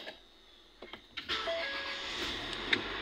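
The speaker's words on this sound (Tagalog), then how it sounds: "Tapos start ulit, apak preno." A Ford EcoSport engine with a cylinder one misfire cranks and catches, settling into a quiet idle with a faint whine, after a few soft clicks and thumps.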